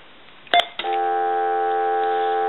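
An AT&T 5500 cordless telephone under repair gives a couple of short keypad tones, then a steady loud dial tone that holds alone to the end.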